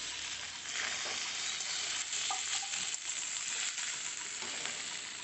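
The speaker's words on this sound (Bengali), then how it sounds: "বড়িটাকে তেলের মধ্যে একটু লাল করে ভেজে নিচ্ছি" Lentil dumplings (bori) sizzle and crackle steadily in hot oil while being stirred in a pan, a continuous close frying hiss with occasional scrapes, no voices.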